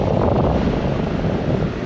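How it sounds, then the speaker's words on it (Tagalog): Steady, roaring wind buffets the microphone while riding a Motorstar Legend 125FI motorcycle on a city road, a loud continuous rumble throughout. "Okay, mahangin na naman."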